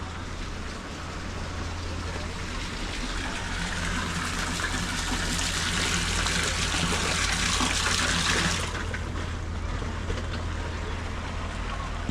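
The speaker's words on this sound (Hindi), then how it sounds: "ये चश्मा है ऊपर पहाड़ से" Mountain spring water gushing steadily from a hillside source at a camping spot, a broad continuous rush that swells louder midway, with a low hum underneath and a voice speaking faintly over it.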